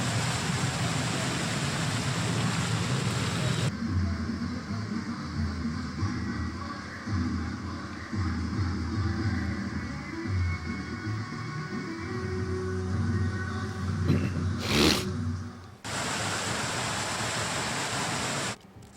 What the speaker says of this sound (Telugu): నగరంలోని పలు చోట్ల కుండపోత వర్షం పడుతోంది.